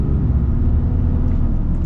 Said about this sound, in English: So we are setting off here in the RMT 2500.